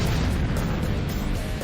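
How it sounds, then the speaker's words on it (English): A huge explosive blast set off to blow apart a dead whale on a beach, heard as a dense, continuous roaring rumble with deep low-end weight that holds steady and loud throughout without a break. "Create an explosion so big that the whale will be blasted to bits."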